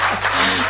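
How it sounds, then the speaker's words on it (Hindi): A live audience at a Hindi comedy poetry show claps in a short, loud, continuous burst of applause. "तालियां जरा पीछे तक जोड़ दो।"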